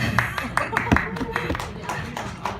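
Sparse hand clapping from a small audience at a jazz club in Itaewon, scattered claps at moderate distance mixed with some low voices.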